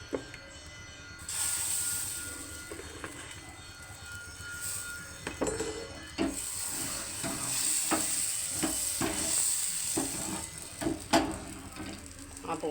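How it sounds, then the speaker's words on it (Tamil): Appam batter cooking in a pan on the stove, a soft continuous sizzle with scattered clicks and metallic taps of the pan and utensils, no speech over it. "ஆப்பம் ஊற்றியாச்சு."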